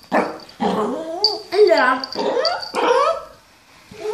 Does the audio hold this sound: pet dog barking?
yes